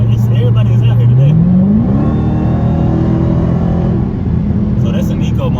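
A Dodge SRT Hellcat accelerating hard in eco mode, close and loud: the engine note climbs steeply in pitch, then settles into a sustained high drone before easing off slightly.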